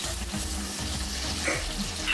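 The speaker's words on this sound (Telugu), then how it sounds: "ఇది కూడా ఒక 5 మినిట్స్ ఫ్రై అవ్వాలండి." Vegetables for a South Indian veg pulav fry and get stirred in a pan, a steady close sizzle with soft scraping strokes throughout and no talking.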